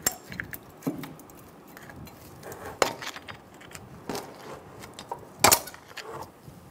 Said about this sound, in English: Remove the pads from the bracket